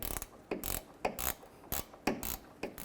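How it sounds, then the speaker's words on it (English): Ratcheting gear wrench turning a nut on the front lower control arm of a 2003–2007 Cadillac CTS, giving short, close clicking bursts at a steady hand-driven rhythm with brief pauses between strokes. "I can switch to a gear wrench."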